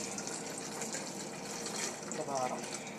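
Water runs steadily into a container, a continuous hissing pour heard close, with a person talking faintly underneath.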